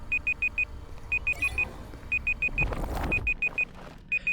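A repeating electronic stopwatch alarm beeps in quick bursts of four, cycling steadily over a low rumble and faint background noise.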